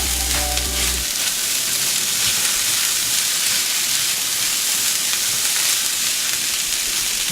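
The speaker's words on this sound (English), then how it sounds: "Let's go ahead and add our cabbage. And let that cook down for another 5 minutes or so." Cabbage, onions, apple and carrot sizzling in a pan, a loud continuous frying hiss and crackle heard close up, steady throughout with a low hum fading in the first second.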